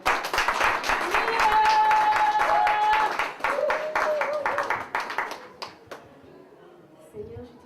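Congregation clapping and cheering at a religious wedding ceremony, a dense wave of applause with voices and ululating tones over it that fades out toward the end.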